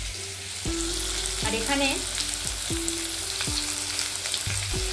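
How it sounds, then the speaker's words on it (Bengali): Potatoes frying in oil give a steady, close sizzle throughout, with a brief spoken word and a few faint tonal chirps over the crackle. "আলু ভাজতে বসিয়ে দিলাম।"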